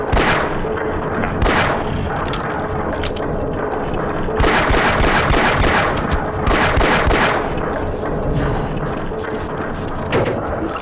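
Continuous gunfire and explosions in the video game Half-Life: Blue Shift, with sharp shots and booms over a constant dense background of noise.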